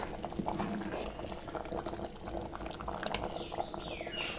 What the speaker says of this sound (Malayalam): തിളച്ചിട്ടുണ്ട്